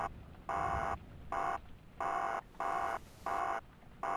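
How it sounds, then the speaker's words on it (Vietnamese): A phone's alarm-like vibrating buzz in the horror game The Ghost of Tomorrow, sounding in steady on-off bursts of about half a second each, repeating evenly over a faint background hum. "Có cái tiếng gì như kiểu tiếng báo thức các bạn ạ. Tiếng điện thoại rung."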